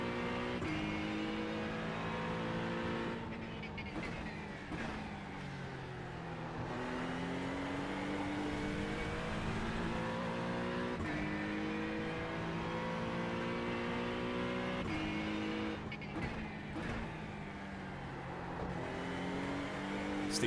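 An Acura NSX race car engine in iRacing at Bathurst screams up and down through gears, loud, repeated rising revs with quick shift drops and brief lifts, close and continuous.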